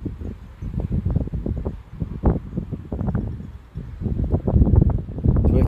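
Gusty wind buffets the microphone outdoors during a drone flight over Terneuzen, the Netherlands, with rain starting to fall, a steady low rumble with repeated stronger gusts throughout.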